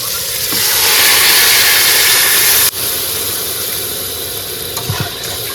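Home-grown eggplant cooking in a pan outdoors beside a creek on a rainy fishing day hisses and sizzles loudly as water goes in, a broad steady hiss that cuts off briefly midway, then resumes slightly quieter.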